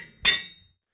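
A Minecraft anvil combining sound from the video game: a single sharp metallic clang with bright ringing overtones, loud and close, fading over about half a second.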